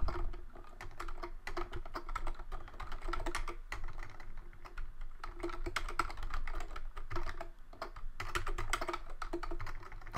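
Rapid, continuous clatter of computer keyboard keys while Objective-C code is typed, close and steady with brief pauses, over a faint low hum.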